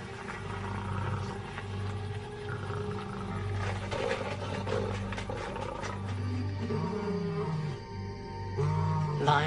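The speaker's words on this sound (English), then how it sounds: "I heard the sound of the lions" Lions roar around a gate at night, their deep, repeated roars and grunts rising and falling at a moderate distance over a low, steady background rumble.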